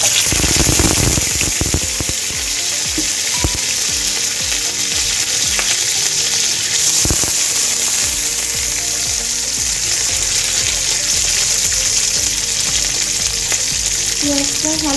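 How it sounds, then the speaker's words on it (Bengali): Chopped onion frying in hot oil in a home kitchen, a loud, steady close sizzle with crackles and pops, plus occasional stirring scrapes across the pan. "তেলটা গরম হয়ে গেছে। এখন আমি প্রথমে পেঁয়াজ কুচিটা দিয়ে দিচ্ছি"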